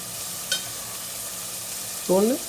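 Chopped onions frying with green chillies in a pan for a drumstick and raw mango chicken curry, a steady hissing sizzle with one scraping stir, then a short voice sound near the end.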